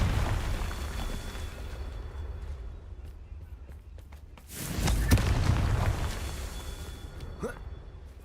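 A Confringo spell blast in a Harry Potter video game, a deep boom bursting out midway over a rumbling game soundscape, with a few sharp pops and a rising zip near the end.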